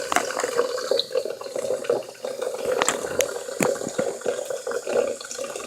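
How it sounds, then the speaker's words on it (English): Water runs steadily from a tap for several seconds, a continuous close splashing stream with a few sharper clicks and splashes along the way. "got the water running."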